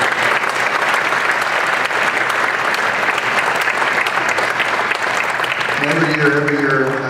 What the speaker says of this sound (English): Let's have a round of applause for all of our inductees.